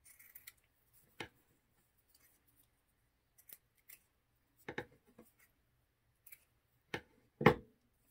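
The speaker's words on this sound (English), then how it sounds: "we can take our scissors and cut this side" Scissors snipping through hot-glued fabric for miniature dollhouse books, a few quiet separate cuts spread across the stretch, the sharpest and loudest near the end, with no talk.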